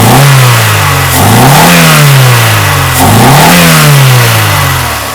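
A Mercedes W201 190E 2.5-16 engine is revved during a test after repairs to its fuel distributor. Several loud, close blips climb and fall back toward idle in a rising and falling pattern, with no talk.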